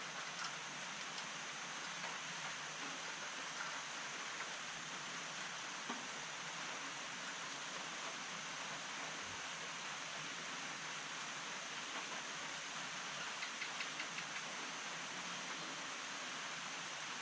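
Steady rain falls on an island, a continuous broadband hiss that stays even and fairly soft for the whole stretch, with no talk.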